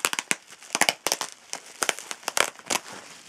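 A package being unwrapped by hand, sharp crinkling and crackling of wrapping in quick irregular bursts, close and moderately loud, with no talk.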